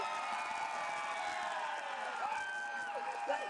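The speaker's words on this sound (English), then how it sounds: "let's give a round of applause for our 25th member" A crowd at a school Wall of Fame induction ceremony cheers and applauds a coach, a steady, fairly even wash of clapping and whoops throughout.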